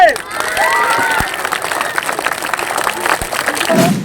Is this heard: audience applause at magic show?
yes